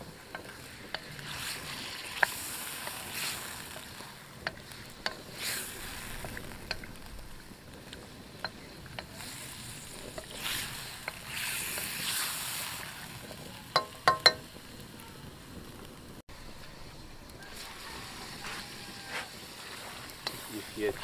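Charsi chicken karahi in the Peshawari style is stirred and fried in a pan, giving a soft continuous sizzle with occasional scraping and clinks of a utensil against the metal. Someone speaks at times over the cooking.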